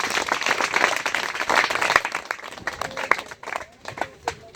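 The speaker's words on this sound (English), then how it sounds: "Can you clap for yourself?" Students in a school hall at a mentoring visit clap for themselves, a dense burst of many hands that thins out over a few seconds into scattered, fading claps.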